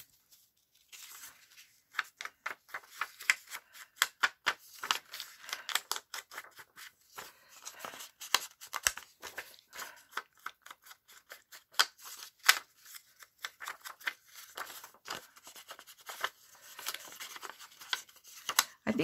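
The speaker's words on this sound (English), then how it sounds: "I think we only need to cut one more piece of paper." Scissors snip through paper for a small handmade envelope booklet, a long run of crisp, close cuts in irregular bursts, with occasional rustling of the sheet.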